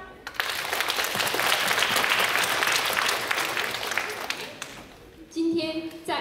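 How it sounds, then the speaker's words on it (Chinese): A crowd applauds at a 20th anniversary dance showcase on a stage at NC State, with several seconds of dense, energetic clapping that fades out before a voice comes in over a quieter room. "让我们再次用热烈的掌声欢迎老队员和他们的亲友团回家。"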